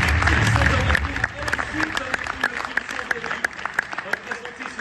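Applause at the Coupe de France FDJ 2024 awards evening as the winning cycling team is called up, a dense steady wash of clapping from an indoor audience, loudest at the start and then holding at a slightly lower level.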